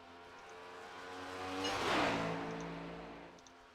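A race car in a racing video game at Watkins Glen approaches and passes, its engine whine rising to a loud peak mid-way and fading back, alone without talk.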